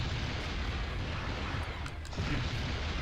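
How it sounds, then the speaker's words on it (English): Explosions in the Spider-Man 2: Enter Electro video game, a continuous rumbling, crackling barrage of blasts that stays dense and steady, with a brief dip before it surges again. "Don't worry about the explosions."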